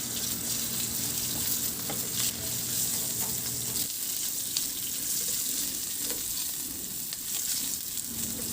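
Garlic sautéing in reduced oil in a pan, a steady bright sizzle that continues alone, with a low hum fading out partway and faint scraping moments.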